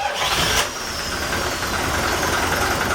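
A Yamaha MD580 KUH inboard boat engine, 260 horsepower and fully overhauled, runs aboard a used Yamaha DY32G boat, a steady close mechanical drone with a brief rise in revs at the start.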